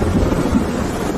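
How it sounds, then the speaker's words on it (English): Heavy rain pours during a storm, a dense, steady low roar with wind rumble mixed in, loud and close throughout with no break and no voices. "It's raining too hard."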